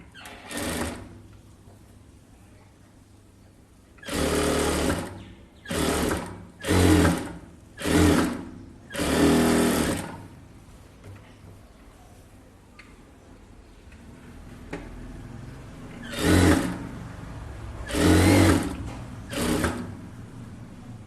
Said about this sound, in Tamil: இப்போ பெல்ட் அட்டாச் பண்ணிடலாம்.